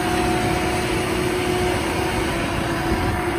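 A 2015 JCB 3CX four-wheel-drive backhoe loader with auxiliary rear hydraulics and about 2,000 hours idles steadily, a loud, even diesel hum with constant tonal whine, close and uninterrupted, no talk.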